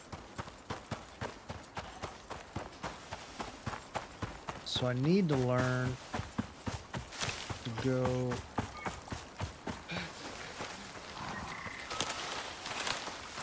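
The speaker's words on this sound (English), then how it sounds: "I hear a horse." Horse hooves clip-clop steadily in the survival game Icarus, with two loud whinnying calls rising partway through; someone talks over the galloping rhythm.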